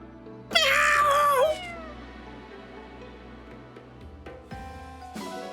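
A cat in the video game Fire Emblem Engage lets out one loud, drawn-out meow that rises and falls, followed by quieter game ambience and a couple of soft chimes.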